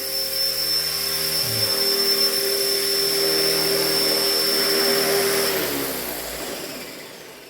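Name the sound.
Blade 330S RC helicopter running during test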